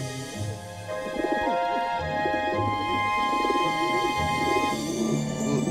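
Pigeons coo in an animated children's cartoon, their soft repeated calls carrying steadily over a bed of gentle background music with no voices.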